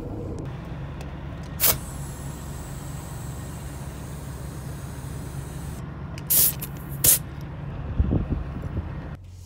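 An air hose inflates car tires, with several short, loud hissing bursts of air over a steady background of traffic and engine rumble.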